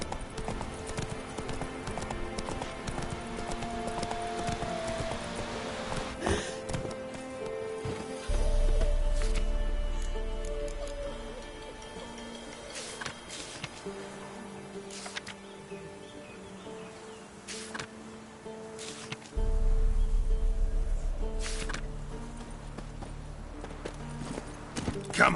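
Hooves of the horse Roach in the video game The Witcher 3, a steady clip-clop rhythm running throughout alongside game music and a few bird calls, with deep low swells rising twice.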